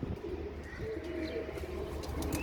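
Pigeons coo softly in low, repeated throaty murmurs over a steady background hum, with a few faint chirps from other birds.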